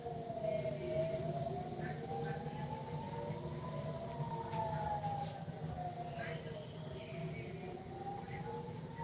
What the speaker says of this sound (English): Sirens going off